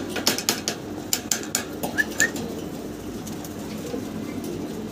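Fancy pigeons at a market, with a quick run of sharp rattling flutters and clicks near the start, a couple of brief coos, then a low steady background hum.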